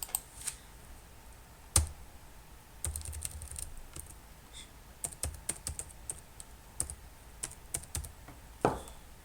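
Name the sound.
typing sample details into an online visa form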